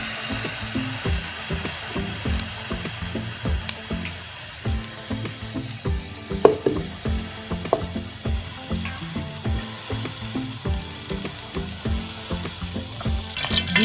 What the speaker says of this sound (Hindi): अब एक पतीले में घी ले लेते हैं